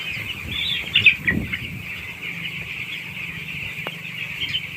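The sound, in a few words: chased ten-day-old chicks flapping and clucking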